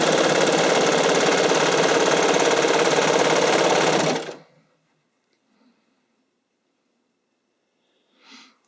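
A sewing machine stitches sleeves onto stretchy spandex fabric in a steady, loud, continuous whir that runs for about four seconds and then stops, leaving near silence with a faint soft rustle at the end.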